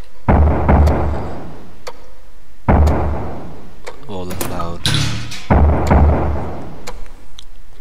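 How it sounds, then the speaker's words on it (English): Fireworks bursting in the video game Ib, three heavy booming blasts with crackling tails at regular intervals, plus a rapid sputtering pop sequence in between, loud and close. "Pretty fireworks."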